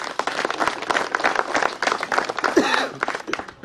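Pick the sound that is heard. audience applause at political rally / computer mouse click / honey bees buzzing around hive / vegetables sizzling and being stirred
audience applause at political rally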